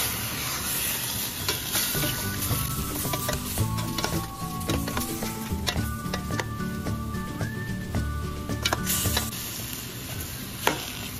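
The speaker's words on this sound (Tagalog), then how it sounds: "Haluin muna natin bago natin siya lagyan ng iba pang sangkap" Chicken gizzard lugaw is stirred in a hot pot, with steady sizzling and frying hiss, soft scraping of the spoon and occasional clinks of metal, close and continuous.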